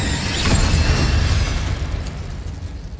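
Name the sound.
Incendio fire spell blast, from video game Hogwarts Legacy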